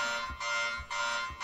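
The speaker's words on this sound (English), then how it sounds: "The fucking alarm!" Alarm in the horror game Anthology of Fear: a loud, harsh buzzing tone blaring in repeated half-second pulses with short gaps, alone and steady across the clip.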